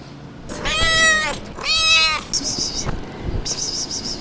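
Cats meowing at the deserted historic Balıklı Göl site in Şanlıurfa: two long, drawn-out meows close by, one after the other, followed by fainter high-pitched chirping.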